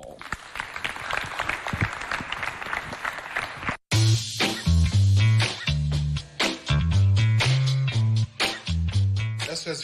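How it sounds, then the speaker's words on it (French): An audience applauds at a children's foundation holiday event, a dense wash of clapping for a few seconds before it gives way to loud music with a heavy, pulsing bass line. "ça s'applaudit bien fort."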